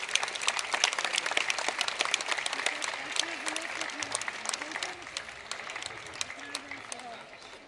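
Applause at the opening of the 22nd International Folklore Festival Plovdiv 2016, a crowd clapping steadily and loudly, then gradually thinning and fading, with some voices faintly beneath it.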